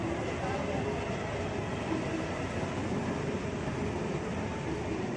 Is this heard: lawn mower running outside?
no